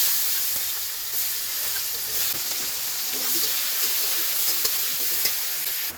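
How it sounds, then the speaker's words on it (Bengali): Onions sizzle in hot oil with a bay leaf in a pan, a steady bright hiss up close with faint stirring scrapes throughout. "পেঁয়াজটা ভাজা ভাজা হয়ে গেছে"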